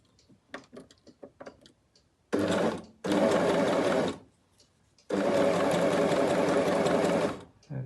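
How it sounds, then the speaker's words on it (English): A sewing machine stitches tape binding with a tape binder attachment, running in loud, steady bursts of motor hum and rapid needle clatter, separated by pauses with faint clicks and handling sounds. "right now I am sewing, I feel, too far into the middle of the binding"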